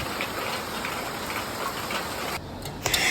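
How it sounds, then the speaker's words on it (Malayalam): Heavy rain pours steadily outside a home, a dense, even hiss of drops hitting surfaces with a few nearer ticks and drips, continuous throughout with no talk. "നല്ല മഴയാണേ."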